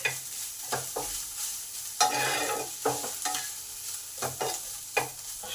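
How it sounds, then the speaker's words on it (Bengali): Soybean chunks sizzling in a frying pan, close up, with a steady hiss broken by repeated scraping stir strokes at irregular intervals. "এবার সয়াবিনগুলোকে 5 মিনিট ভালো করে ভেজে নেব।"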